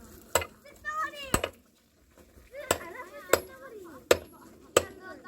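A hammer strikes wood at a caravan campsite where firewood is being split, giving about six sharp, loud knocks at uneven intervals, with voices talking between the blows.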